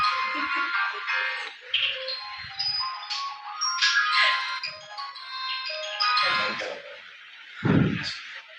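A mobile phone ringtone plays near a religious discourse gathering, a bright electronic melody of ringing tones repeating for several seconds, fairly loud, with a short low thud near the end.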